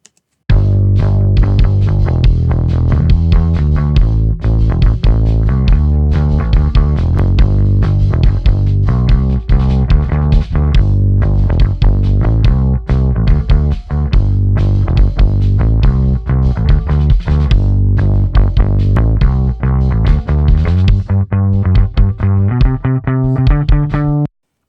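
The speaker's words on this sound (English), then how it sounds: "with the more aggressive setting, you really get the dirt and the kind of harmonic distortion that I find is perfect for this kind of music." Live bass guitar plays continuously under aggressive compression with gritty harmonic distortion, a thick, dense, steady line of driving notes, loud and close for the whole stretch with no talking.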